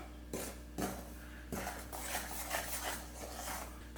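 Rice flour and salt being mixed by hand in a bowl, with close scraping and rubbing at a steady pace throughout and a couple of sharper clinks early on, no voices.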